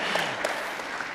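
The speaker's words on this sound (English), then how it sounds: "So we can clap at the end of every question," Brief burst of audience clapping during a university-hosted author talk, a dense patter of many hands at moderate level, steady across the short moment without voices.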